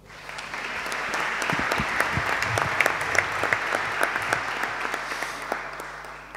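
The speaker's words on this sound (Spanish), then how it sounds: "Un aplauso." Steady applause from an audience at EUDE's welcome event for new students fills the room, dense clapping building quickly and holding at an even level throughout.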